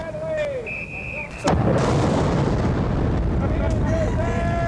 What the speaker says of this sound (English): Compliments of the Newport Artillery Unit of Rhode Island, who have 16 charges, I'm told, and are firing them off as ships pass.